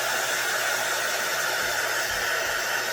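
Steady, loud whoosh of a heat gun blowing continuously over painted Dollar Tree Christmas decorations as they dry, a constant airflow roar with no pauses and no talking.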